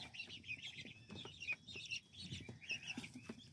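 Partridge Rock chickens cluck softly in a coop where guinea fowl are also kept. Short, scattered clucks and chirps repeat throughout at moderate volume.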